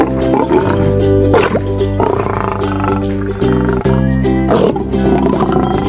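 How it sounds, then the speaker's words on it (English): A lion roaring, several loud, close, deep roars in a row with brief pauses and grunting breaths between them. "Lion."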